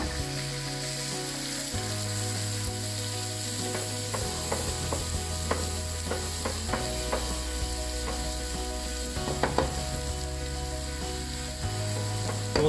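Onions frying in oil infused with whole spices for a rustic chicken curry, a steady close sizzle with scattered clicks and taps of a utensil against the pan, no talking.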